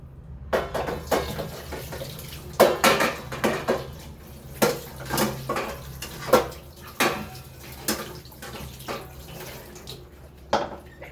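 A vadachati cooking pan being rinsed with water, with splashing and sharp metallic clanks and scrapes that come in irregular bursts close by.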